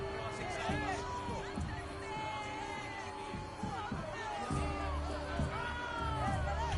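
A Greek arena crowd in Assassin's Creed Odyssey roars and murmurs in a steady, dense wash of voices, with game music and low thuds running beneath the continuous cheering.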